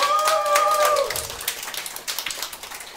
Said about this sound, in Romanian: Aplauze pentru Adriana.